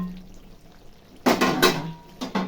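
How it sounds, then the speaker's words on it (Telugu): A metal lid clatters onto a cooking pot of chicken masala curry, a few sharp clanks and rattles close up after a quiet moment with faint kitchen hiss. "మూత పెట్టేద్దాం."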